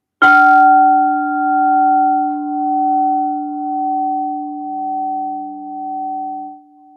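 A crystal singing bowl in light aura gold, pitched in D, struck once and left to ring: a clear, pure sustained tone with gentle slow wavering that fades very gradually over several seconds, alone.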